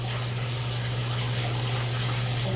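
Water runs steadily from a shower during a bath, a constant close hiss of spray with a low mechanical hum underneath, with no voices.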